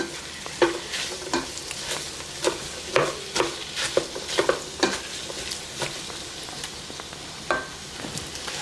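Meat sautéing in a pot for Zuppa Toscana soup: a low background sizzle broken by repeated close scrapes and clacks of a spoon stirring, irregular and fairly quiet, with no voices.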